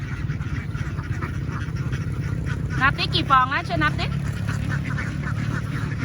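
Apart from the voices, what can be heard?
ducks quacking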